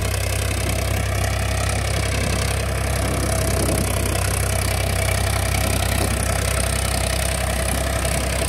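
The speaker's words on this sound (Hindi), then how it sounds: "देख सकते हैं आप कितनी अच्छी आवाज बना रहा ट्रैक्टर।" Farmtrac 45 Classic Smart 48 hp tractor pulling a 7-foot Fieldking rotavator at about 1400 rpm, its engine giving a steady, loud, continuous drone with a deep low rumble throughout, no talk.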